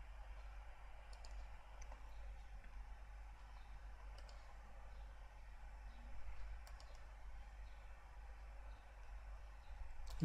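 A computer keyboard clicks faintly as a command is typed, producing sparse, soft keystrokes over a low steady hum in a quiet room.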